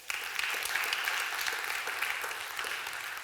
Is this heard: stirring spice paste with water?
no